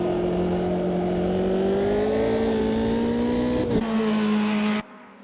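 F3 race car on the track at Cascavel, with over 200 horsepower through the rear wheels, sending out a loud, steady high-pitched engine scream that holds, wavers briefly during a shift, then cuts off abruptly.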